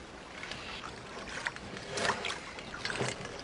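Rowboat being rowed with oars on water: soft, spaced splashes and dips of the blades in a slow, regular rhythm, close and faint against a quiet outdoor background.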